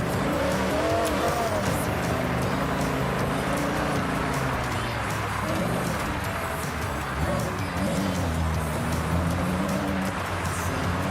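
A high-horsepower car driven hard in Forza Horizon 6, engine roaring continuously with rising and falling revs and tire squeal, loud and close, with a voice talking over it at times.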